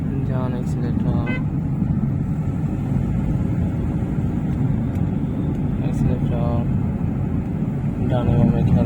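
A car accelerating during a driving lesson in Dhanmondi, Dhaka, with a steady engine and road rumble throughout, voices talking over it, and occasional higher tones from passing traffic.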